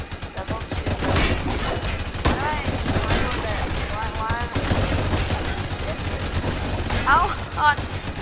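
Rapid minigun fire from mini gunner towers in the Roblox game Tower Defense Simulator, steady rattling bursts against zombies with game effects layered over it throughout.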